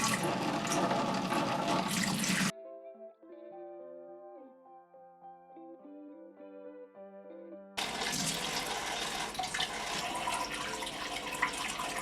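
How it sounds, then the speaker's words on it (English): Water pours and splashes steadily into an aquarium, loud and close, for a couple of seconds, then gives way to a quiet stretch of soft melodic music before the rushing pour returns and continues. "so here's some water ASMR"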